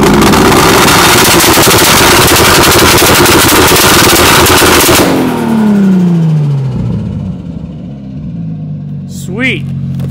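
A Toyota Supra engine on a dyno, running a two-step launch control on a Link ECU, roars at sustained high revs, then the revs drop and it crackles with rapid backfire pops at close range.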